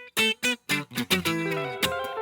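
Guitar playing octaves: several separate plucked chords, then a quick slide into rapid position shifts with ringing notes at the close, lightly driven tone, no talk.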